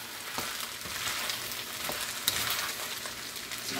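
Diced onion frying in a pan for fried rice, giving a close, steady sizzle with scattered pops and a brief stirring scrape, no voices.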